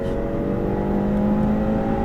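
A Ferrari F8 Tributo engine drones steadily with a low, rising tone, held at a strong, constant level as it accelerates on a race circuit, close by.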